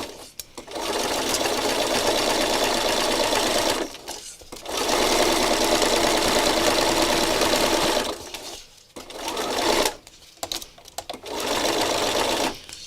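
A sewing machine stitches rows through sticky painted fabric, running loud and steady in several long passes broken by brief pauses and a few short, stuttering bursts.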